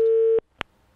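A telephone busy signal heard while a call is being placed: one loud, steady tone lasting a fraction of a second, then a short click or blip after a brief gap, with no voices.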